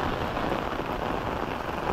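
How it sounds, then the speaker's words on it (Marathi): Heavy rain pouring steadily on a Konkan village during a sudden downpour, a dense unbroken hiss close by with no voices. "पाऊस वगैरे जोरात लागतो आहे"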